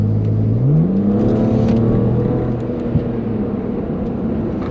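Tire noise at highway speed reverberating through a car's chassis, heard from inside as a steady, loud road roar with an engine tone rising in pitch as the car accelerates onto the highway.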